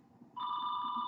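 A telephone rings with a steady electronic double-tone that starts abruptly after a brief pause and holds loud and clear to the end, with no talk over it.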